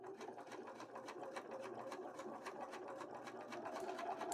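A serger sewing machine running at a steady clip, a rapid rhythmic chatter of needle and stitch strokes that stays even and fairly close throughout.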